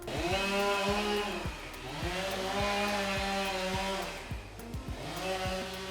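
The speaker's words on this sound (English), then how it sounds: "The chainsaw in the background, it kind of hurts my heart hearing that." A chainsaw revving up and down in repeated bursts, its engine whining and bogging as it cuts, fairly close and loud.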